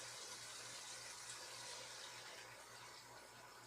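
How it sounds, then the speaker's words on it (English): A steady, soft rush of water pours into a Dutch oven for a few seconds, continuous and even, with a low hum underneath. "I'm going to pour, I don't know, maybe a couple cups of water"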